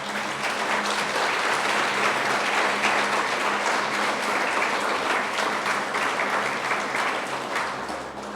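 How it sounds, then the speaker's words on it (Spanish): A crowd applauds steadily and loudly, sustained clapping from many hands with no break throughout. "Dale otro fuerte aplauso a Dios."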